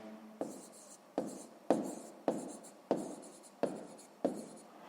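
Pen or marker writing by hand during a sixth-grade maths lesson, about seven distinct scratchy strokes in a steady rhythm, close and clear with no talk.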